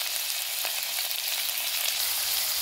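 Sliced potatoes fry with a steady, close sizzle in a pan, and a faint scrape of stirring sits under the hiss. There is no talk.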